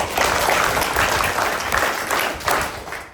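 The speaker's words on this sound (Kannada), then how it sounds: "ನಾನು ಹೃದಯಪೂರ್ವಕ ಧನ್ಯವಾದಗಳನ್ನ ಚಪ್ಪಾಳೆ ತಟ್ಟುವುದರ ಮುಖಾಂತರ." Audience applause fills the room from start to finish, a dense steady wash of many hands clapping at a fairly loud level that swells slightly near the middle and fades toward the end.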